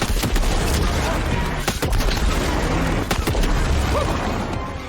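Gunfire rattles in Shadow Warrior 3 while shooting spawned balls in an arena, loud sharp bursts and impacts over busy game noise with a voice faintly mixed in.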